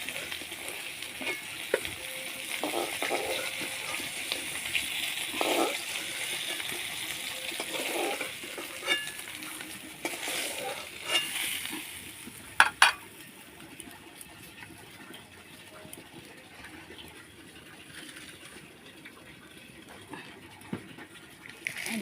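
Hilsa fish frying in a pan, a steady broadband sizzle with crackling and spattering that holds through the stretch, with a few sharp clinks near the middle.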